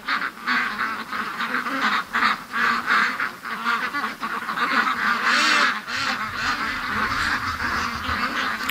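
A big group of pet ducks calls nearby in loud, overlapping honking quacks, coming in ragged bursts and then a longer continuous chorus, with no talk over them.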